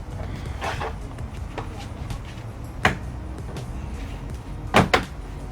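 A plastic door panel clip on a 2010 Chevrolet Camaro 2SS snaps into place, giving a couple of sharp, close clicks against a quiet garage background.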